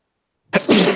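A single close, sharp sneeze with a quick inhale just before it.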